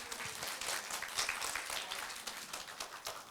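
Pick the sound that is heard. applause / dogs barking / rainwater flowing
applause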